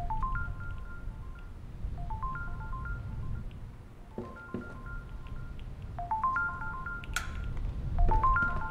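A video game telephone in Supernatural rings repeatedly, short electronic tone bursts coming in regular pairs over a low ambient rumble, clear and close with no talking.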